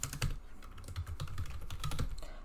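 An email address is typed on a computer keyboard in a rapid, irregular run of close, crisp keystrokes with a few heavier thumps, continuing for a couple of seconds without talk.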